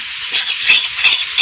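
Vegetable chowmein noodles hit a hot pan in a village-style cook-up and crackle in a loud, close, hissing sizzle with bursts of stirring, no voices.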